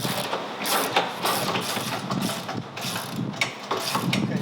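A ratchet wrench tightening bolts while fitting a Panther tilt bracket for an Elco Electric EP-14 outboard, giving a close, steady run of clicking mechanical strokes with no talk.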